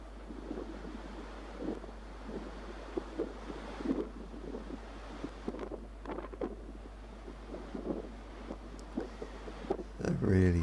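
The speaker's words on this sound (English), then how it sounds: "They're really strong wind conditions." Strong Force 7 gusts buffet an outdoor microphone at St Catherine's Oratory, steady rumbling wind noise with surges and flutters throughout, a DJI Mini 3 Pro drone being flown in it, with a louder burst near the end.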